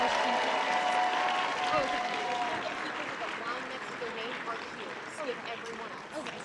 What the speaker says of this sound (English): we're going to give a round of applause for our Coswalk participants